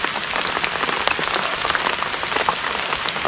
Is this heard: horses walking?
no